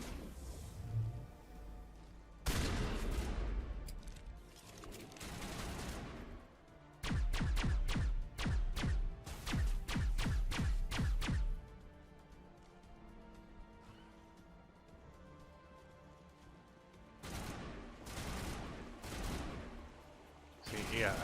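Gunfire bursts in Mass Effect Legendary Edition come in clusters, with rapid repeated shots, blasts and impacts separated by quieter gaps of game ambience.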